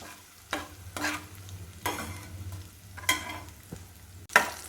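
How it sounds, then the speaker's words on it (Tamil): Green chilies, ginger and curry leaves are sautéed in a pan, with a spatula scraping and tossing in several distinct strokes over a soft continuous sizzle, close and alone. "இந்த பச்சை மிளகா இஞ்சி கருவேப்பிலை எல்லாம் போட்டுன்ட்டேன்"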